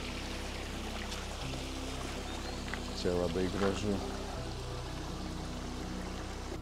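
Small miniature streams trickle beneath little bridges in a botanical garden in Bergen, a soft steady burble of water heard from close by, with a person speaking briefly over it.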